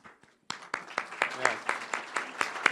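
Clapping breaks out at a community recognition awards ceremony after a brief pause, a sparse, rhythmic run of roughly ten distinct claps from a small group, fairly close and moderately loud.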